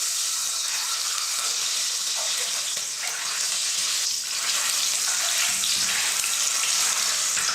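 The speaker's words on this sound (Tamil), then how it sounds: "முட்டையை இது போல் எண்ணெயில் நம்ம முதல்ல ஃப்ரை பண்ணோம்னா" Six boiled eggs fry in hot oil with turmeric powder on a low stove flame, giving a loud, steady, close sizzle that stays dense and unbroken throughout, with no talking.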